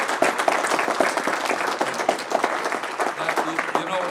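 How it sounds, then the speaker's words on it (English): Audience applause at a League of Women Voters school board forum in Michigan City, a dense steady wash of many hands clapping with faint voices mixed in, filling the whole stretch at moderate loudness. "A round of applause for them."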